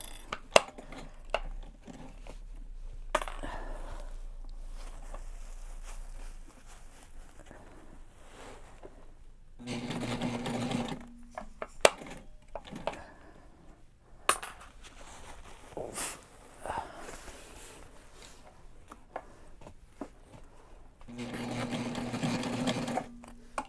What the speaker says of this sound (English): here I am about to sew over my staples.